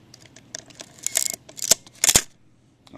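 A camera fires its shutter at a slower shutter-speed setting, with a few soft button and mechanism clicks followed by two sharp, close shutter snaps in quick succession.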